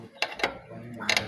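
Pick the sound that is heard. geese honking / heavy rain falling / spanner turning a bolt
spanner turning a bolt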